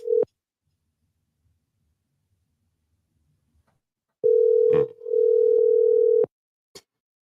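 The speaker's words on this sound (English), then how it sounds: "Let me see if I can get her on the phone." Outgoing telephone call ringing out: a short tone, a pause, then a long steady electronic ring tone with a brief click, alone and clear with no voices.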